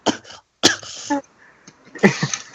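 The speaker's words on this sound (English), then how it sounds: "That was real coughing, by the way." A sick person coughs in several harsh, throaty bursts separated by short pauses, close to the microphone.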